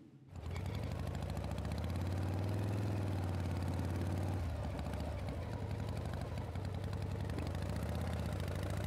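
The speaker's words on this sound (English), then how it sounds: "even I could hear that motorcycle" A loud, steady motorcycle engine drone hums close by as it passes, rising slightly in pitch, then settles into a continuous rumble without any voices.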